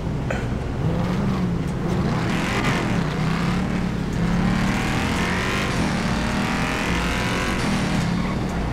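BMW M3 engine in GTA 5, revving and accelerating loudly and continuously with shifting pitch sweeps, up close, with no talk.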